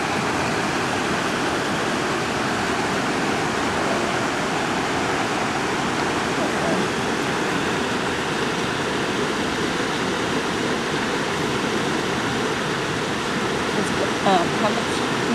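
Steady broadband rush of river water flowing, a continuous even wash with no pauses, heard from close by at a gold-panning spot in the river.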